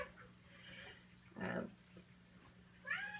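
A pet cat meows indoors, two or three short, fairly faint calls spaced over a few seconds against a quiet room hum.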